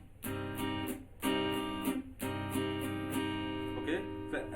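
Slow strumming pattern for a song on acoustic guitar, a series of distinct chord strokes in an unhurried, even rhythm, close and clear with no talking.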